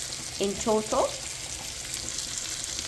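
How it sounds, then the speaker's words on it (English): Chicken frying in butter in a pan gives a steady, close sizzle that runs the whole time, with a brief spoken phrase near the start over it. "I'm frying up my chicken now in some butter."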